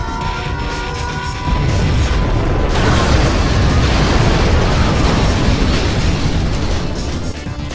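A nuclear missile strike in Command and Conquer Generals Zero Hour with an apocalyptic mod, heard as a sudden massive explosion that swells into a loud, sustained roaring rumble and slowly fades.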